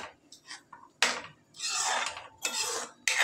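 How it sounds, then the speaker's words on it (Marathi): Chopped paneer being stirred into thick gravy in a pan, a spoon scraping and clinking against the metal in several bursts, close and fairly loud, with short pauses between strokes. "आता ह्यात चिरून घेतलेले पनीर घालू. आणि पुन्हा एकदा मिक्स करून 2 ते 3 मिनटं शिजवून घेऊ."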